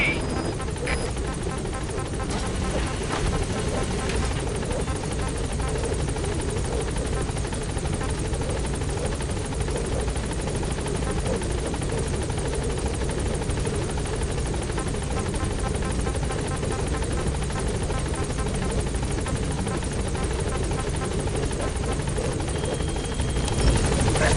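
Pequod helicopter hovering at a landing zone in Metal Gear Solid 5: a dense, continuous rotor roar and engine whine fills the whole stretch at steady loudness, with a radio-style voice talking over it.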